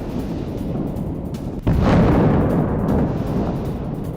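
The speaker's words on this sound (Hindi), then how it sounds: "हिजबुल्लाह के कमांड सेंटर पर बमबारी" Bombardment explosions hit a Hezbollah command centre in south Lebanon. A sharp heavy blast breaks through a dense background rumble, followed by a rolling roar that slowly fades, loud and unbroken, with no speech.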